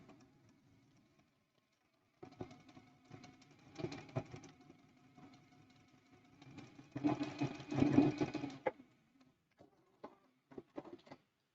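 A home sewing machine runs a quilting seam through a Christmas quilt block, starting after a brief pause and stitching in steady bursts with a slowdown mid-seam, then a louder, faster run before stopping with a few light clicks.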